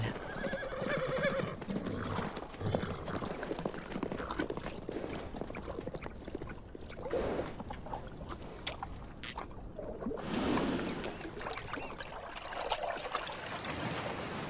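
Wild horses in the Namibian desert, with clip-clopping hooves and repeated neighing and whinnying, loud and close over a busy outdoor background, with no talk.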